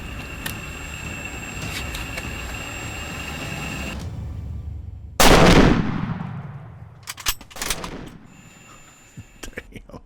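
A single sharp, loud hunting rifle shot fired at a leopard on safari, booming close by and ringing out into the quiet surroundings, followed by faint handling noises and soft speech.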